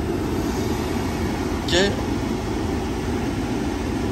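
A car's automatic air conditioning blows cold air on recirculation from all the vents, a steady close broadband hiss throughout, with a brief voice near the middle.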